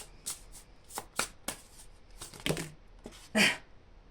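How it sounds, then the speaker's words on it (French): Tarot cards being shuffled and drawn by hand, close up: a string of quick riffling and snapping bursts with short gaps between them, then a louder slap of a card near the end, and no one speaking. "j'ai envie de tirer une dernière carte"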